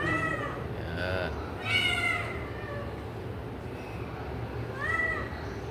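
Several cats meow at a pet shop with a grooming area, giving a handful of distinct calls spread across the moment over steady room noise, near and moderately loud.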